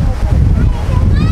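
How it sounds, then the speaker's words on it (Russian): Gusty wind from the remnants of a hurricane buffets the microphone with a loud, low, continuous rumble, while a person talks over it. "порывистый ветер, остатки урагана"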